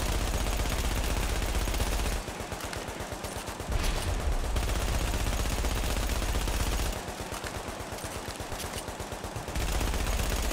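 Rapid automatic gunfire from a turret in The Division, a near, dense burst of rattling shots lasting about two seconds, a pause, then a second sustained burst, loud and alone without talk.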